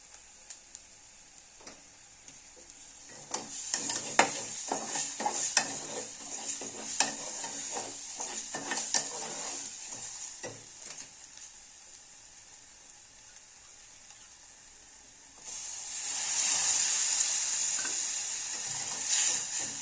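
Egg curry is stirred through a spice masala in a hot pan, with scattered ticking scrapes of the spoon over a steady sizzle that swells into louder frying hiss near the end, close and with no talking.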